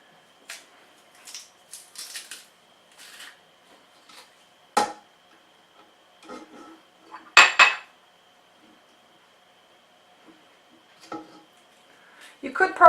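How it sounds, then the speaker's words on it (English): A garlic press squeezing three garlic cloves into a blender while making a sunflower seed Caesar dressing in a home kitchen; close, scattered metallic clinks, taps and knocks, with quiet gaps between them. "Then I've got 3 cloves of garlic that I'm gonna press in there."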